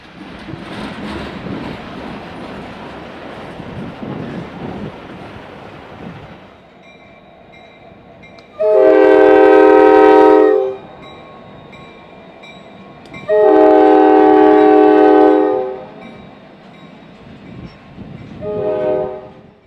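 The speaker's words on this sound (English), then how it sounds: "same loaded bottle train we saw at Griselli earlier continues her slow journey west to Riverdale" A loud, slow loaded freight train of bottle cars rumbles past in northwest Indiana while its horn blares in two long blasts and a shorter third, the rolling noise fading between them.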